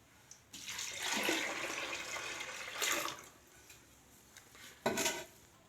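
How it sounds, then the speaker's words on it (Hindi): Water poured from a vessel into a pressure cooker holding four kinds of overnight-soaked lentils, a sustained splashing gush lasting a few seconds, then shorter pours and a metallic clink. "इसमें प्रेशर कुकर में ये चारों दालें डाल देते हैं और 1 लीटर इसमें पानी डाल देते हैं"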